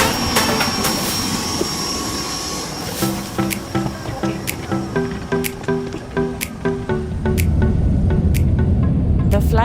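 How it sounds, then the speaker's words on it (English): At Tamale Airport in Ghana, an aircraft engine roars and whines loudly as a broad steady rush, while a run of rhythmic knocks and clatter passes in the middle before the engine noise swells again. "this is the only aircraft here at the moment"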